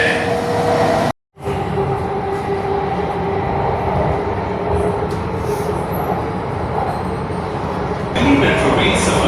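Delhi Metro train running between stations, a steady loud rumble and rush of wheels and carriage with a brief dropout early on, continuing throughout with no clear talk.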